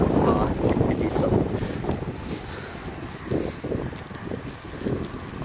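Strong wind from Typhoon Lingling buffets the microphone in Korea, a rough roaring rush that surges and eases in gusts, loud and close throughout.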